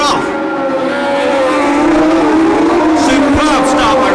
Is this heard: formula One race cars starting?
yes